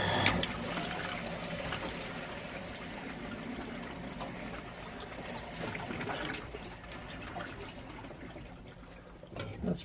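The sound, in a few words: water leaking and trickling at a water filtration plant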